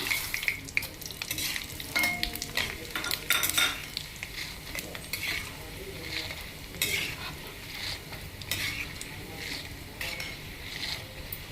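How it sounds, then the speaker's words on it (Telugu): Mustard seeds, chana dal and dried red chillies for a South Indian pulihora tempering sizzle in hot oil in a pan as they fry golden, with a spoon stirring and scraping against the metal throughout, close and steady. "గోల్డ్ కలర్ వచ్చేలాగా ఇలా తాలింపు గింజలు వేపుకోవాలి"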